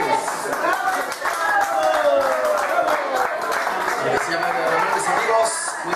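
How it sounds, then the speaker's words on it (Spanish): Steady crowd applause and clapping filling the whole stretch, with a voice talking over it throughout. "Vamos a darle un fuerte aplauso a Isidro Morales."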